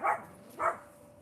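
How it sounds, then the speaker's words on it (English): A dog barks twice outdoors on Salt Spring Island near the ocean, two distinct woofs about half a second apart, moderately loud at a middle distance, with no one speaking. "Dog's barking at something."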